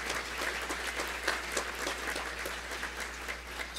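An audience at a free enterprise awards luncheon applauds, with dense, even clapping from many hands that stays steady for a few seconds without cheering or talk.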